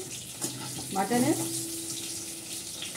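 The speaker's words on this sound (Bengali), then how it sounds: "মাংসের আলুটা ভেজে নিচ্ছি" Potatoes for a mutton curry frying in a pan, a steady close hiss and sizzle with a brief bubbling burst near the start, with no talking.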